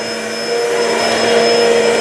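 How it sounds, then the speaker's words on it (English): A vacuum cleaner runs steadily nearby, a loud continuous whine with a constant tone, stepping up slightly in level partway through. "Now I can turn the vacuum cleaner off."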